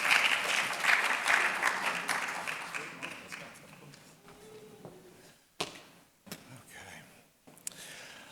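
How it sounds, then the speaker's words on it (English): A graduation awards ceremony audience at a College of Medicine and School of Graduate Studies applauds an honoree; dense, close clapping swells at first, then thins and tapers into scattered claps and light room noise. "You can applaud for him."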